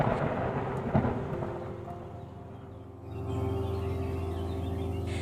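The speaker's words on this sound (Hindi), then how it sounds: "गांव में जोरदार बारिश हुई" Heavy rain falls steadily over a village with a deep rumble of thunder in the background, the downpour swelling louder partway through.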